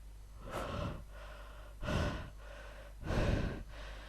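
Heavy, rasping breaths in three slow, loud bursts, each a deep inhale or exhale separated by short pauses, close up and with no talking.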